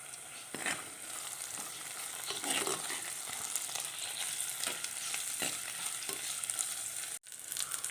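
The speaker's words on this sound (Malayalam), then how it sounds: "ഇഞ്ചിയും വെളുത്തുള്ളിയൊക്കെ ഒന്ന് വാടി വന്നപ്പോൾ പച്ചമുളക് ഇട്ട് കൊടുക്കാം" Green chillies fry with ginger and garlic in a hot pan, giving a steady, close sizzle with occasional stirring scrapes and a brief pause near the end.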